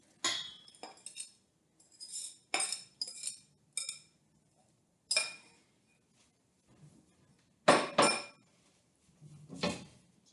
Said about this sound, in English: I'm actually going to do it with a rubber scraper just to be make sure that I don't actually